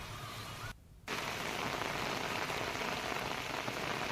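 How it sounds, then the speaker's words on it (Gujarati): Heavy rain pours down on Gir Gadhada in Junagadh district in a steady, dense roar, briefly cutting out for a moment before resuming loud and continuous. "હાલ પણ ધોધમાર વરસાદ ચાલુ છે"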